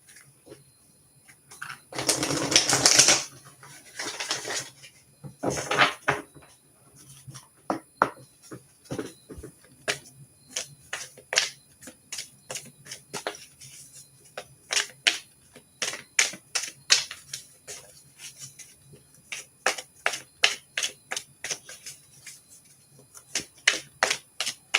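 A deck of reading cards is cut and shuffled close up: a long run of crisp riffling bursts and rapid snapping card flicks, with pauses between them and no voices.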